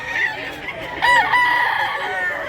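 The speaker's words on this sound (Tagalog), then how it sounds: "Gandang manok." A rooster crows loudly nearby, its call rising and holding, with other fowl clucking and background noise throughout.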